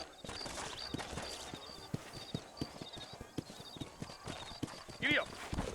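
Horse hooves clip-clop at a steady walking pace on a town street in the video game Red Dead Redemption on PS3, with a brief whinny near the end, heard under speech.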